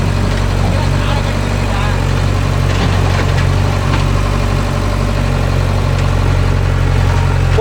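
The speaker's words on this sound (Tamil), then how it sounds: "ஜேசிக்கு நல்லா அள்ளி போடுதாப்பா" A JCB 3DX backhoe loader's diesel engine runs loud and close in a field while scooping soil, a steady low rumble throughout, with voices talking over it.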